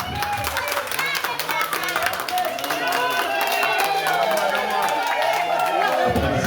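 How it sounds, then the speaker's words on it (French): A crowd applauding Hassan Darwish at a solidarity anniversary event, a steady wash of many hands clapping that continues for several seconds, with voices talking over it. "Applaudissez-le."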